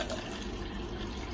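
Tap water runs into a colour-changing bottle, a steady rushing, filling sound that is loud and close and continuous throughout, with no talk.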